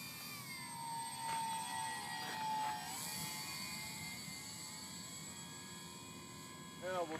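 A hobby model airplane makes a landing pass, its thin high engine whine drifting and shifting in pitch at a distance over steady outdoor background noise, with a brief closer rise near the end.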